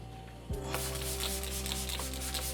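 Sandpaper rubs steadily across a yellowed, oxidized car headlight lens, a close continuous scratchy rasp over a low constant hum, with no pause after it starts.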